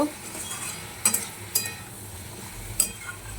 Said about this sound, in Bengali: এবার এই মুগ ডালটা দিয়ে দেব, দিয়ে একটু নেড়ে জল দিয়ে দেব